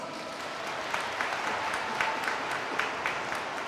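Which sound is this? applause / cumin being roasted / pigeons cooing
applause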